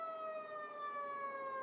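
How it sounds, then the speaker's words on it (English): A siren from a fire truck or ambulance driving past on a city street, a loud, continuous wail sliding slowly down in pitch with no voices over it. "Excuse this fire truck or ambulance or something's going by."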